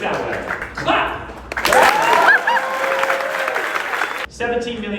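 A room of people breaks into clapping at a real-estate business gathering, the applause swelling loudly after a second and carrying for a few seconds before cutting off, with talking around it.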